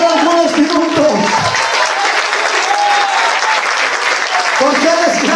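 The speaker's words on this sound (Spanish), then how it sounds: "Usted puede aplaudir al rey de reyes y señor de señores por algunos minutos" Loud, sustained applause from a large audience at an evangelistic church service fills the space continuously, with a voice speaking over it near the start.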